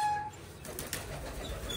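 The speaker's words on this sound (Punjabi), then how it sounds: "ਆਪਾਂ ਤੁਹਾਨੂੰ ਹੁਣ ਦਿਖਾਉਣੇ ਆ ਕਬੂਤਰ" Pigeons cooing softly in a loft on a farm during cleaning, a quiet low murmur of calls with a faint flutter, with no voices.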